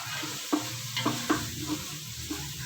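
Onions frying in a pan for egg kabsa, a steady sizzle with a few sharp clinks of a utensil stirring against the pan, close up and without speech.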